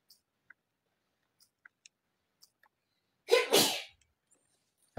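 A single loud, close sneeze bursts out after a few soft clicks from a computer mouse or keyboard, then silence follows.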